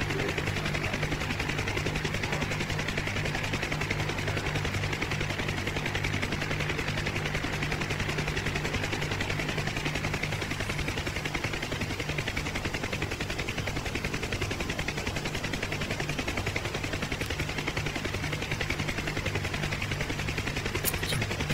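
A Huey helicopter in a DCS flight simulator runs steadily with its turbine engine whine and thumping rotor, a loud continuous drone holding at stable RPM throughout without interruption.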